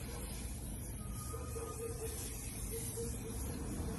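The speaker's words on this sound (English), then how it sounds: "I'm gonna go ahead and use my shine spray all over." A steady, fairly quiet hiss of aerosol hair shine spray runs continuously without pause, close by and even in level.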